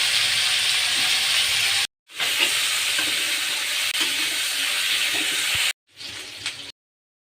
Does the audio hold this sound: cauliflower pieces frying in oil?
yes